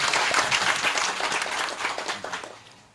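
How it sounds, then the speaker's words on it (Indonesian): An audience at a gathering breaks into full, dense applause that swells at first and then gradually fades over a few seconds, with no voices on top. "tepuk tangan untuk kita semua."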